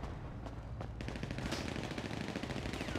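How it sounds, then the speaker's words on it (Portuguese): At a baile funk party during a police raid, gunshots sound in the distance as a dense rattle of rapid cracks. The shots grow busier after the first second over a constant background din. "O maluco dando tiro também."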